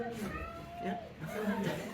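A cat meows a few times at a stand-up comedy show, its drawn-out calls mixed in with someone talking over it at close range.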